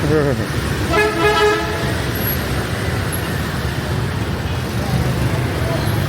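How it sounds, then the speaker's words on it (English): Busy Saigon street traffic, a dense roar of motorbikes and cars with a short horn toot near the start and faint higher beeps later, steady and close throughout. "look at that traffic"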